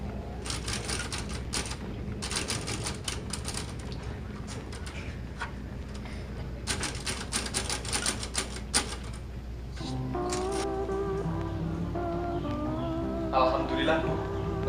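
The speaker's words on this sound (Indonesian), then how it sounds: "Bung Sayuti, apakah saudara siap untuk mengetik teks proklamasi?" An old typewriter types out the Indonesian proclamation text in a short film, rattling in quick bursts of keystrokes with pauses and voices in the background, before music swells in near the end.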